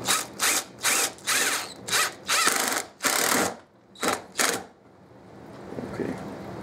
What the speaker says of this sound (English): I'm gonna drill a hole right here.